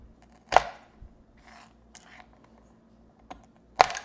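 A knife chops orange vanilla sugar cookies in half on a board with two sharp, close thumps, a few softer taps and light crumbly rustles between them.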